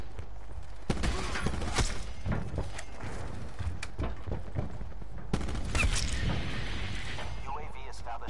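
Sniper gunfire and other gun sounds from the Call of Duty Black Ops 4 video game, sharp cracks and bursts over steady game noise, with a player talking throughout.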